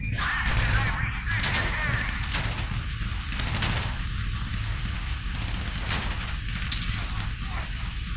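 Gunfire from the GTA V video game crackles in rapid bursts through a dense, continuous wash of game noise, with a voice speaking at times.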